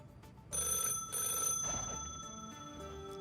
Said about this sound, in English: Oh, is that a phone ringing?